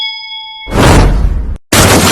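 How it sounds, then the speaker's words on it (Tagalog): A bell-like ding plays as a sound effect: steady ringing tones at first, then a loud, broad crash-like burst that cuts off briefly and resumes. "Bell."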